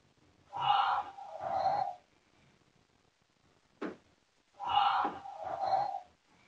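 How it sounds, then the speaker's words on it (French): Two slow mechanical breaths from an animatronic Baby Yoda (The Child) toy, each a raspy in-and-out whoosh, separated by a brief click, quiet and close in an otherwise silent room. "l'enfant ferme les yeux et on peut l'entendre respirer"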